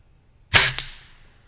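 A Weihrauch HW50S air rifle fires a single sharp crack, followed a split second later by a fainter metallic tap as the pellet strikes a distant steel diamond target.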